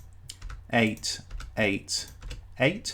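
Quick key taps on a computer keyboard enter a DNS server address in a few short clusters, close and clear, while someone speaks between and over the keystrokes.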